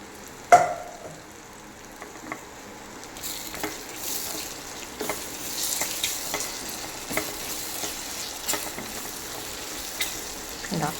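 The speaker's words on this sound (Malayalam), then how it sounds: "മൂത്തതിൻ്റെ കൂടെ ഞാൻ ആ വഴുതനങ്ങ വറുത്ത് വെച്ചത് ഇട്ടു." Fried brinjal pieces dropped into hot oil for a brinjal pickle give a sudden close sizzle, then a steady frying hiss broken by repeated scraping stirs, with no voices.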